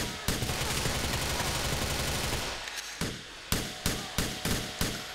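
Gunfire in the video game Grand Theft Auto IV: a dense, continuous burst of automatic fire, then a string of separate loud, sharp shots at a steady pace.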